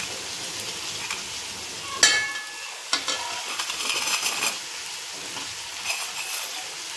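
Cooked rice and broken pieces of Maggi noodles are stirred in a hot pan with a steady frying sizzle, with a few sharp spatula scrapes and taps on the pan near the start.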